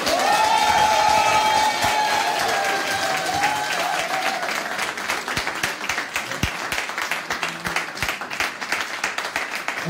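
A church congregation at a worship convention in Italy bursts into sustained applause and cheering, with a sung note carrying over the first few seconds before the clapping and crowd noise continue steadily to the end.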